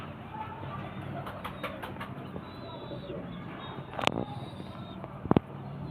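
Pigeons, a female and a male among birds kept for sale, coo in low soft bursts through a steady background murmur, with a couple of sharp louder knocks near the end and a person speaking.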